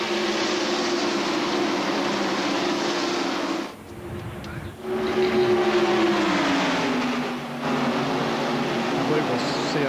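Loud, continuous roar of stock car engines at the 1993 Winston 500, a steady droning pitch that briefly dips, then slides lower as the cars pass.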